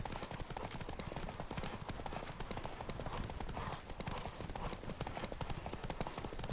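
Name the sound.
horse hooves galloping in The Witcher 3 video game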